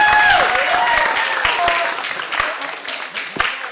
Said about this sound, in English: can we give a round of applause to the team